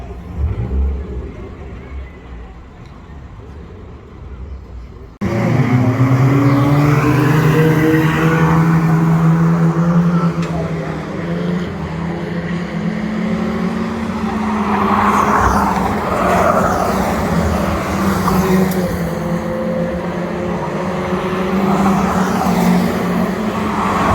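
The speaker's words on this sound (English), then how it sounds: "So that's the back to basic pro stocks, just going away" Back to Basic pro stock cars on the Cowdenbeath stock car track pull away in a group, a low rumble that jumps suddenly to a loud, sustained roar of several engines revving and fading slightly.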